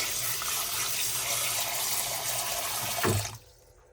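Tap water gushes steadily into a pot, a loud continuous rush that is cut off abruptly near the end, leaving quiet.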